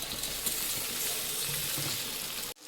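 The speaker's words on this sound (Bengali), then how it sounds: "বাটিটা ধুয়ে একটু জল দিয়ে দেব।" Running tap water splashes steadily as a bowl is rinsed and water is poured into a pan of frying spices for a Bengali rui fish curry with eggplant, a continuous close hiss that cuts off abruptly at the end.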